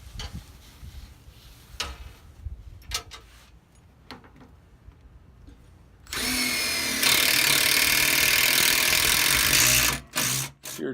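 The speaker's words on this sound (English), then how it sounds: "started to use some self-tapping screws in the frame" A power drill driving self-tapping screws into a metal trailer frame during a brake upgrade; a quiet shop with scattered clicks gives way to a loud, sustained whirring drive lasting several seconds, then brief bursts as it stops.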